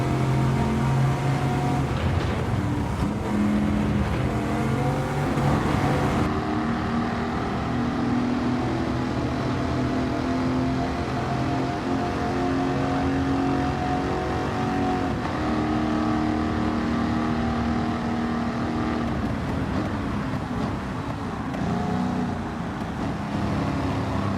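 A Chevy 302 V8 from a Camaro Z28, fitted with a semi-racing exhaust, revs hard and steadily in Gran Turismo 7, a loud, continuous engine roar with rising and falling pitch and no talk.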